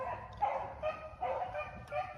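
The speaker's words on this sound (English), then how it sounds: "The dogs are on the trail of something." Several dogs on a trail give rough, repeated barks and yips at a moderate distance, coming in short irregular bursts of two or three, with no voices.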